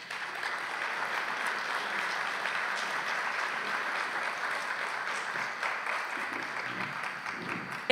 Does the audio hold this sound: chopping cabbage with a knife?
no